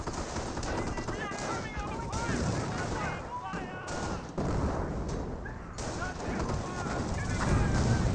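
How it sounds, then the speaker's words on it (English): Rapid gunfire from a jeep in the real-time strategy game Company of Heroes, dense bursts of shots sustained over a busy battle soundscape with other weapons and a voice talking throughout. "Jeep still firing away."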